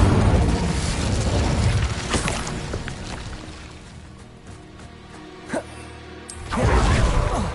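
Incendio fire spell cast in a wizarding action game, a booming whoosh of flame bursts with rumbling blasts, a quieter lull, a sharp crack, then another loud roaring surge near the end.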